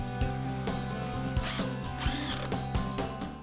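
A power driver whirs and ratchets in short, repeated bursts as screws go into a wooden L frame made from ripped 1x4 boards, loud and close with no talk.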